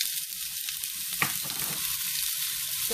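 Chopped onion frying in a hot pan for a spaghetti squash dish makes a steady, moderately loud sizzle with a brief clink and stirring rustle partway through. No one speaks.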